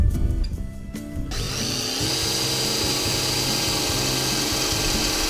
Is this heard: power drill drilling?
yes